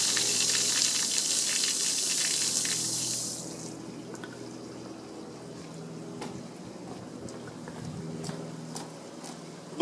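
Water from a hose rinses down car bodywork: a broad, loud hissing spray fills the first few seconds, then cuts off, leaving quiet dripping, trickling and faint handling noises.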